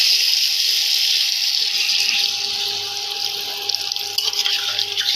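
Water is poured into a pan of soybean curry, making a steady, close, rushing hiss that holds evenly with only slight wavering throughout.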